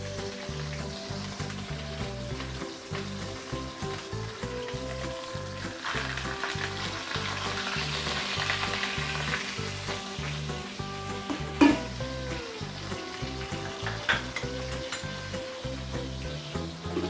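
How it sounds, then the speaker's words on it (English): Fish pan-fries for a soup with coriander and century eggs, crackling and spitting steadily at a moderate level close to the pan, with a few sharper pops and a spatula knock near the middle, and no talking. "pan fry the fish until I actually char both sides"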